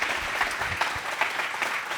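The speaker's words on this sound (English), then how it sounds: "Another round of applause for Drew, please." Audience applause at an on-stage talk event, a steady dense clapping from a crowd that carries evenly through the whole stretch with no voices over it.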